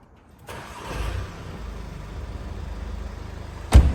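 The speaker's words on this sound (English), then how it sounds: "So Dan's just going to turn the car on" A Mercedes-Benz GLB 220d with a 2.0 diesel engine cranks and fires up, settling into a steady low idle rumble heard from inside the car, ending with a sharp click.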